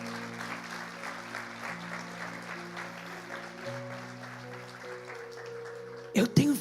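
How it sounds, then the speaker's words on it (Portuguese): Applause from a church congregation, steady crowd clapping over a sustained musical backdrop, ending in a sudden louder burst of voice. "Você pode dar uma salva de palmas ao Senhor?"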